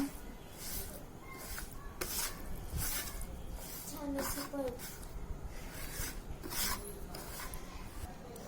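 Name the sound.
mixing oil into spice masala for turmeric pickle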